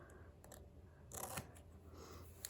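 Scissors snip through paper for a gluebook in a few quick, close cuts, each a short crisp rasp, with quiet pauses between them.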